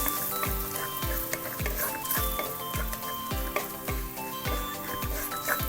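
Kashmiri chili powder sizzling in hot oil for a Kerala-style mackerel curry with blended coconut, a close, steady crackle with rhythmic stirring or tapping throughout.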